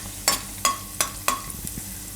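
Garlic and fenugreek seeds roast in ghee over low heat; a soft steady sizzle runs underneath while a spoon taps against the pan four times at an even pace.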